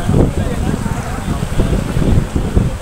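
Strong wind roars steadily with gusty low rumbles, buffeting the microphone; a soft wash of rain noise runs underneath throughout, at an animal market for Qurbani livestock.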